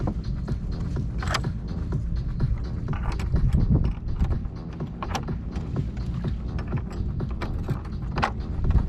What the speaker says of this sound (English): this nut tightens everything down